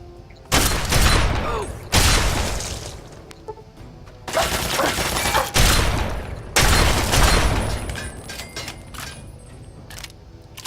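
Gunfire in the video game Fallout 3, bursts of loud automatic weapon fire in several long volleys separated by brief pauses, harsh and close.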